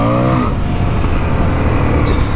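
Indian motorcycle engine revving hard with its rear wheel spinning, a loud, steady close-up roar with a rising tone at the start and a harsh high whine near the end.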